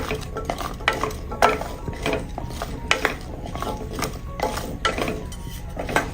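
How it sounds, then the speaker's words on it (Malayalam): A spoon stirs small red onions in a pan over medium flame, with irregular scraping and clinking against the metal and a faint sizzle underneath, close and fairly loud with no voices. "ഇനി ഇതൊന്ന് ഇളക്കി കൊടുത്ത് ഈ ഉള്ളിയെല്ലാം ഒന്ന് വാടി വരണം, അതുവരെയും ഒന്ന് ഇളക്കി കൊടുക്കാം."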